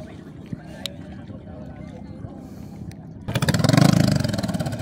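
A racing boat engine at a Bangkarera boat race during the Salambaw festival, stalling repeatedly, catches after a stretch of quiet murmur and background noise, then roars up loud and steady with a throbbing, revving drone.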